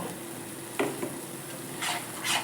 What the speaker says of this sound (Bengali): এবার পালংয়ের পেস্টটা দিয়ে দেব